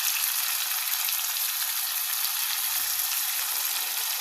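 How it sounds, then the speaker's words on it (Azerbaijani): Chicken hearts and livers fry in cream in a pan, giving a loud, steady, close sizzle of dense crackling bubbles throughout, with no voices. "Ondan sonra isə ürək, ciyarı hamısını əlavə edib burada yaxşıca bişiririk."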